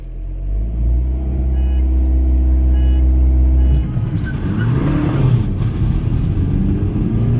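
A Skoda Octavia 1.8 TSI and a BMW X1 2.0 diesel launch side by side in a drag race. A loud, steady engine drone with rising harmonics runs for about four seconds, then gives way to a rougher, broadband roar as both cars pull hard.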